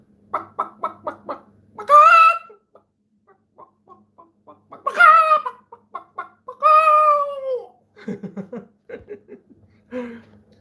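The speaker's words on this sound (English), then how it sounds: "Rooster." Clucking bursts alternate with several drawn-out, strained calls like a rooster crowing, each loud and close, separated by short pauses.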